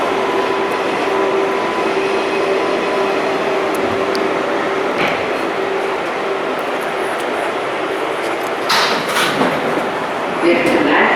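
Steady rumble of a New York subway local train running, with rattling wheels and occasional metallic squeals and clicks, continuous and close throughout.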